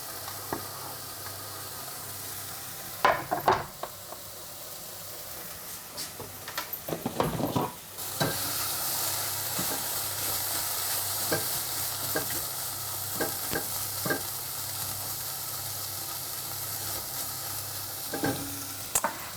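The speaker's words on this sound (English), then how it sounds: "The carrots are chopped up. They're going to go in." Chopped carrots for a harissa minestrone soup hiss steadily in a hot pan. Clattering stirs and knocks come through, bunched early on and then spaced out, while the sizzle carries on evenly with no voice.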